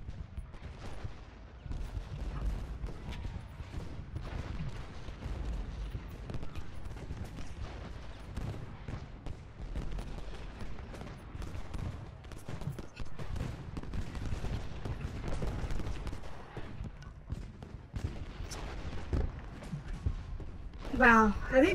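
Dense, steady gunfire from a Civil War battle in the strategy game Ultimate General: Gettysburg, with ragged volleys crackling on and off throughout and a person talking over it.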